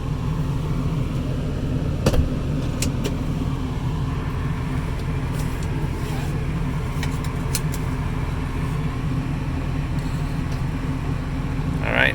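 A steady, rumbling interior drone from a Ford F250/Excursion truck as it drives, with faint clicks and rattles over the continuous engine and road noise.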